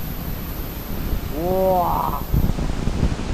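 A roaring underground waterfall deep inside a vast cave in China fills the space with a steady, loud rushing wash, and a person exclaims briefly over it.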